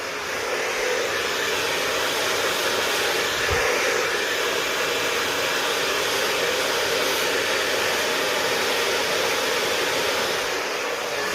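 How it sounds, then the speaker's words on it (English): A hair dryer blows steadily at the roots of hair, a loud, unbroken airy roar holding at one level throughout. "hold it, dry in at the roots, because you want to make sure you're getting the roots dry."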